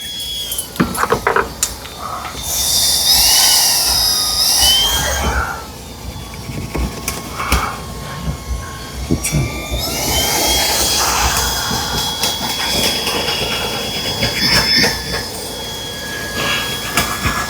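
A loud, steady roaring whine of a Metro Vac running at full power, with sharp hissing surges and rattles throughout.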